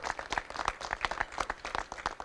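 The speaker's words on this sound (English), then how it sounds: "Let's give John Scardino a round of applause." Audience applause at a film-industry news conference after a union regional representative is introduced, a quick burst of scattered clapping lasting a couple of seconds at moderate distance.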